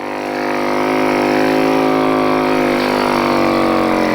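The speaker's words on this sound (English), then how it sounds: "I'm gonna do a snow bike cut." A snow bike engine revs loudly and steadily while the bike rides across a shallow snowy slope, its tone rising and then holding close by.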